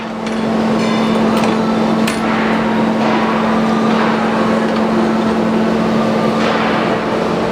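A pulp fluidizer machine runs steadily and loudly throughout, a constant droning motor hum with a strong low tone and broadband churning noise, close to the listener, with no talking.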